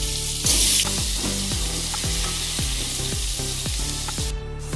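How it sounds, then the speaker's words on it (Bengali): Pointed gourd (potol) pieces rubbed with salt and turmeric sizzle steadily in hot oil in a kadai, with a regular series of sharp scraping knocks as they are stirred and turned. "এবারে পটলটা ভালো করে ভেজে নেব।"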